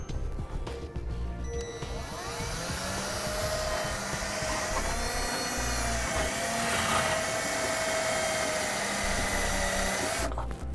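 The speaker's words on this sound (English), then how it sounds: "now we're gonna drill a pilot hole through our bracket here" A power drill bores a pilot hole through a metal side bracket on a 2015 Jayco trailer frame while fitting TorkLift GlowStep scissor steps, whining loud and steady for about ten seconds as the bit grinds into the steel.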